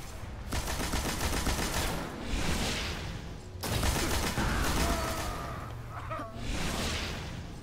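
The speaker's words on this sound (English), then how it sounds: "Heavy machine gun." A heavy machine gun in Destiny's Trials of Osiris mode fires in sustained rapid bursts, loud and close, with a brief gap between two long runs of fire.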